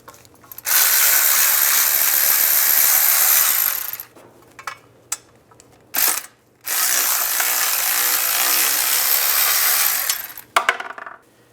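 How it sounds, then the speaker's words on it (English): A ratchet with a 10mm socket removes shield bolts on a 2007-2013 Chevy Silverado, giving loud, fast clicking runs of a few seconds each, separated by short pauses and small metallic taps. "take these two bolts out, use a 10mm socket"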